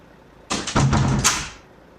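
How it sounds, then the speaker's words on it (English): Doors opened and shut by kids in a house, giving a close, loud burst of several quick bangs and rattles over about a second before fading. "noisy kids opening and closing doors"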